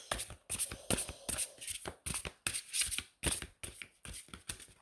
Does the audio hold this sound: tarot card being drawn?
yes